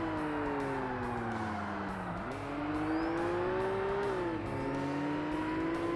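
Engine note of a Nissan Skyline race car in Forza Motorsport rising steadily as it accelerates, dipping briefly at each gear change, with other engine whine layered underneath.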